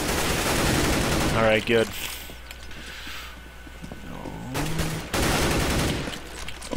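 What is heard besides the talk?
M4A4 rifle gunfire in Counter-Strike video game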